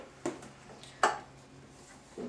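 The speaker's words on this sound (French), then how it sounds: "Je retire le couvercle." Lid lifted off a hot wax heater, a couple of light clinking, clattering contacts with a brief metallic knock in between, close and quiet, no talking.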